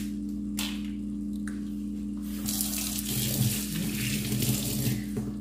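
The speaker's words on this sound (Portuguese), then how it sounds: "Lavei a folhinha que caiu ali" Tap water runs while a spinach leaf is rinsed, a steady stream beneath a constant low hum, growing louder and more splashy midway as the leaf goes under it.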